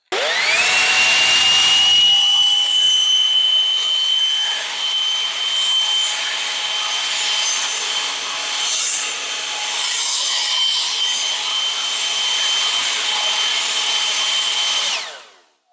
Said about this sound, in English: So I wanted to give you some perspective on how well the blower can handle like a heavy pile of leaves